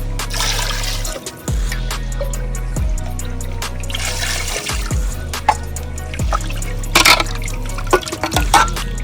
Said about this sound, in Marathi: चिकन धुवून घेतोय आपण.